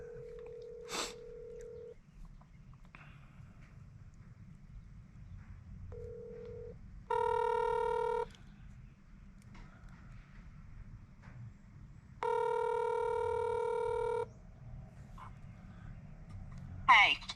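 Telephone keypad and line tones while a number is dialed: a few short beeps, then two longer, brighter tone bursts of about two seconds each over a low, steady background hum, with no talking.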